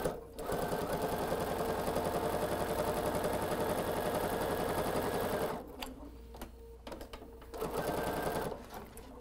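Sewing machine stitching jelly roll fabric strips fed through a jig: a steady, fast mechanical whirr with a regular stitch rhythm, close and loud, stopping after several seconds into quieter clicks and handling noise.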